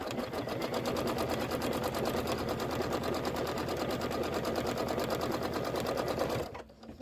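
A sewing machine stitches a pillow quilt border at speed, its rapid needle rattle loud, close and unbroken for about six seconds before stopping abruptly.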